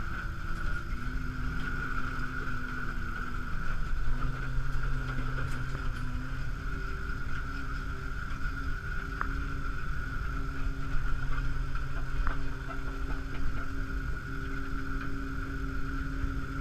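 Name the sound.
LMC 1200 snowcat moving in reverse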